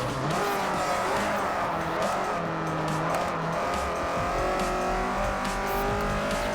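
Race car engine roars continuously with tire squeal and skidding in Forza Motorsport 4, a sustained, dense engine drone with shifting pitch and no talking.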